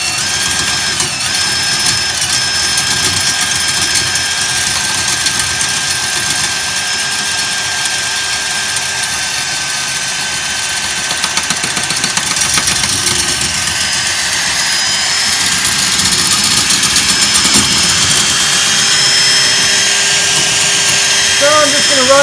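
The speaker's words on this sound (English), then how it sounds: "So I'm just running this on the drill." Loud continuous whirring of an electric drill spinning a welding rod, steady and close, with a faint high whine and slight variations in pitch.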